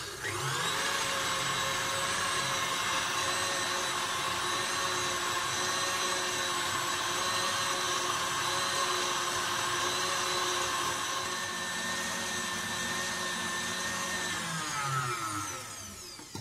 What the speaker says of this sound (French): on va commencer par battre nos blancs avec 50 g de sucre. Donc on met, bim, 50 g de sucre et on met nos blancs en route